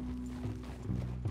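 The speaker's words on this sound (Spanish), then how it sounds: "Este es el caballo que gime." Horse in the video game Red Dead Redemption 2, a short burst of clip-clopping hooves with a faint neigh, close and moderately loud.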